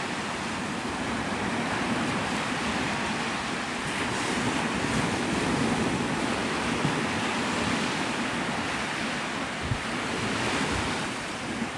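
Ocean surf rolling in at Navarre Beach, Florida at sunrise, a continuous loud wash of breaking waves mixed with gusting wind buffeting the microphone.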